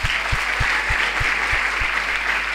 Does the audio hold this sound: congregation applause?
yes